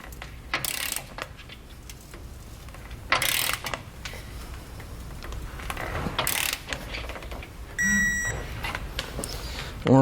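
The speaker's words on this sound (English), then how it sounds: "Then we'll come back with a torque wrench. We're going to torque it down to the specified amount in the instructions." A torque wrench tightens large 5/8 bolts with a 15/16 socket while mounting a Roadmaster base plate on a 2016 GMC Sierra, making intermittent ratcheting clicks and metallic clanks with a short beep.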